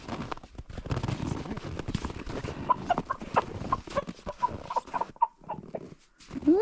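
An agitated rooster clucks and squawks in a series of sharp calls at a homestead in harsh Alaskan country, close and uneven amid rustling movement.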